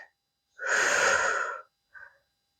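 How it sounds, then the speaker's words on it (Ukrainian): A single deep breath during a pilates workout: a long, loud, breathy rush of air lasting about a second, then a short, softer puff after a brief pause, close and clear with no talking. "Вдих і видих."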